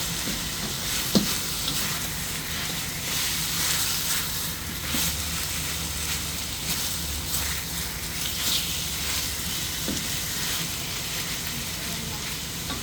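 Chicken pieces frying with lemongrass in a pan, a steady close sizzle and crackle with a few small pops, running evenly throughout with no voices.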